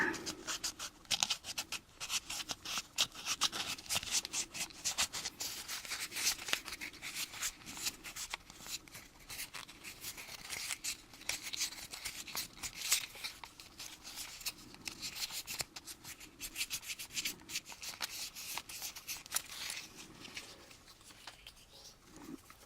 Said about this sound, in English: Now let's just give her a little nice sandpaper.